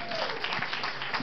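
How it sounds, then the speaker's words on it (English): A round of applause for kids at a comedy show, brief and steady clapping from a crowd at moderate volume, with voices faintly mixed in. "Give the kids a nice big round of applause."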